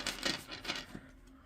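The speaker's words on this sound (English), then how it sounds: "I have not used this deck yet, so I'm going to shuffle it a couple times." New, unused deck of playing cards being shuffled, giving a few close, quick papery riffling bursts in an uneven rhythm that fade off, with no talking.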